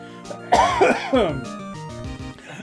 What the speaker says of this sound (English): Sorry, the asshole is making me cough.